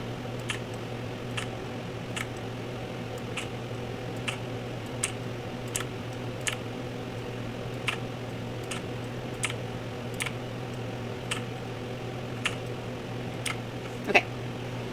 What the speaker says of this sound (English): hitting the delete key on your keyboard